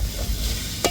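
Bitter gourd slices frying and being stirred in a pan with salt, giving a soft, steady sizzle close by and a brief scrape near the end.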